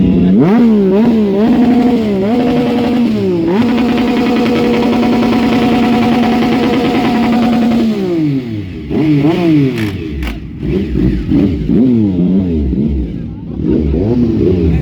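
Superbike engines rev hard at a roadside meetup on a bypass road, loud rising and falling throttle blips and a sustained high rev, close and dominant with other bikes idling nearby.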